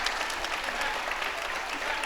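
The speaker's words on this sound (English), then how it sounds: "we hear the applause from the crowd" Steady applause from the crowd at a high school girls varsity basketball game fills the gym, dense continuous clapping throughout with faint voices underneath.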